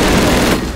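Sustained automatic gunfire laying down suppressing fire in the World War II shooter Call of Duty, a loud, dense, continuous burst heard up close with no talking.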